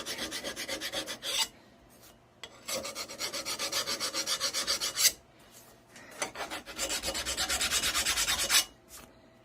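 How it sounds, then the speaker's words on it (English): A rubber pump part clamped in a vise gets scrubbed in quick back-and-forth strokes, producing loud raspy bursts in three rhythmic runs separated by short pauses, close up, with no voices. "You're just giving it a little quick scrub."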